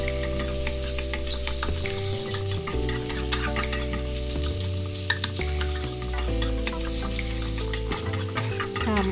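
Minced pork tossed with garlic in a hot pan, the meat sizzling steadily while a utensil scrapes and stirs in frequent clattering strokes, close and loud, with no talking.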